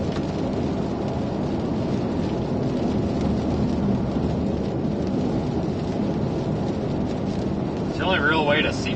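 Thunder rumbles through steady heavy rain during a Texas storm near Fort Stockton while chasing shelf clouds; a broad, continuous low roar fills the whole stretch, with a brief voice near the end.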